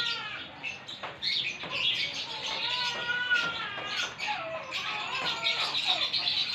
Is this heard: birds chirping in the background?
yes